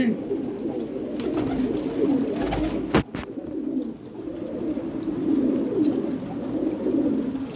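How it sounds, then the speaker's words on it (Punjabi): Pigeons at a village coop coo in low, throaty, rolling phrases that keep going throughout, close and steady, with a brief knock partway through. "ਵੱਡਾ ਕਬੂਤਰ ਬਾਈ ਇਹ ਵੱਡਾ"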